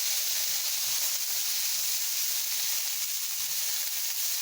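Onions and broccoli sizzle steadily in a single hot pan, a loud, dense, unbroken hiss of frying that fills the whole stretch with no pauses.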